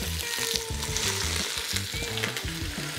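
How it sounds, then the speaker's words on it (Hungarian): Chopped onion sizzles and fries steadily in hot oil in a pan over medium heat as the base for Hungarian lecsó, a loud, continuous crackling hiss with faint stirring and no talk. "Ez a sistereg."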